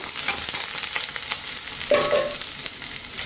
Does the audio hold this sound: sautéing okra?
yes